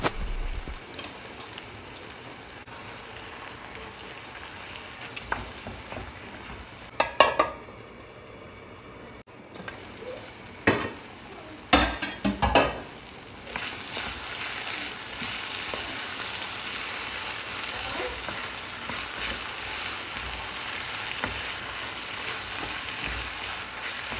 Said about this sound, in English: I'll give it a stir and cover it for some minutes to cook